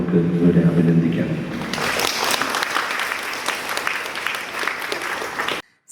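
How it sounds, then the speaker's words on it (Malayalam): An audience claps together at a charitable trust event in a hall, the dense applause holding steady for several seconds before stopping abruptly, with a voice heard under it at the start. "ഇവരെ ഒരു കയ്യടിയോടുകൂടെ നമുക്ക് ഇവരെ അഭിനന്ദിക്കാം"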